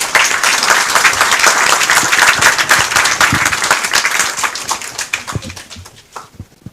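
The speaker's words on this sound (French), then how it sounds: "Des applaudissements nourris pour ce bilan élogieux" Sustained, loud applause from an audience at the close of a political speech in Senegal, dense clapping filling the room before tapering off in the last seconds.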